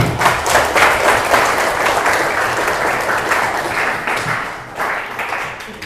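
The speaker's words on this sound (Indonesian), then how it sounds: "Tepuk tangan buat kita semua." A seminar audience at a vocational high school breaks into loud, sustained applause, dense clapping that holds steady for several seconds and eases slightly near the end.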